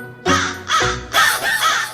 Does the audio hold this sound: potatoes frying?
no